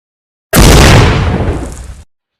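A single loud, broad explosive blast that erupts suddenly and rumbles for over a second before cutting off.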